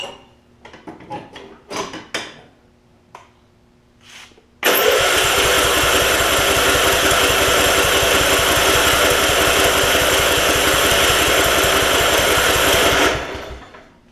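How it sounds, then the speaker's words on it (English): A Kohler Command engine on a Craftsman riding mower cranks over loudly and steadily for about eight seconds after some handling clatter, then cuts off abruptly, with no one speaking over it. "let me see if I can crank this thing over and at least get a little bit of fuel pump action going"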